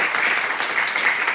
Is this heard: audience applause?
yes